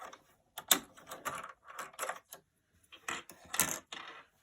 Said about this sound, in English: remove the bobbin